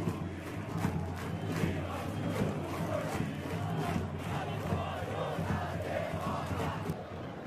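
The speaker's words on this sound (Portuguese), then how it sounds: "Sente só a torcida do Bugre que faz barulho em Taquaritinga." Guarani (Bugre) supporters roar and chant in a stadium at Taquaritinga during a Copa São Paulo youth football match, a dense, continuous crowd din with rhythmic pulses of chanting throughout.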